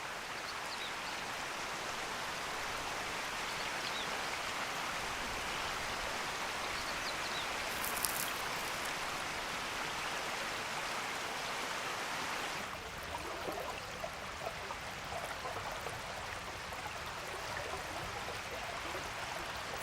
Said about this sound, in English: This is the mountain stream that's home to the Amago.